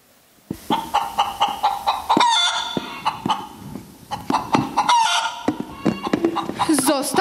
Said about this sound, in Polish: Zostaw już te kury! Same wrócą!